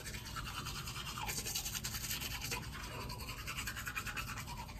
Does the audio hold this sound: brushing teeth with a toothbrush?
yes